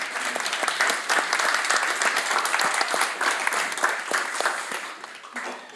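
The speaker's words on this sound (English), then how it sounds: "Give him an applause." Steady applause from an audience at a Europe Day event in The Hague, a full, even patter of many hands clapping for several seconds before easing off at the end.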